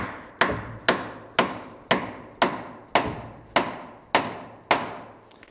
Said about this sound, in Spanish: ahora lo que debes hacer es tomar el martillo y terminar de meterlo